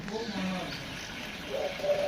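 A dove gives soft, low coos in short separate notes, faint and somewhat distant, with a steady background murmur underneath.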